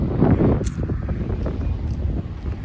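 Desert wind blows across the microphone as a steady, rumbling buffet outdoors near a mountain stream, with faint brief higher sounds over the gusts.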